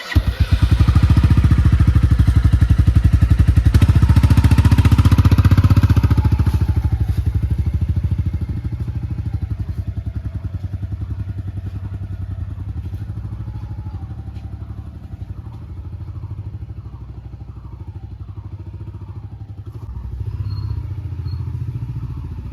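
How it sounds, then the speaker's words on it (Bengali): A motorcycle engine roars loudly up close, then eases into a steady, lower throb as the bike pulls away and keeps running at a distance. "তো এখন ও বাইকটা নিয়ে বেরিয়ে গেল"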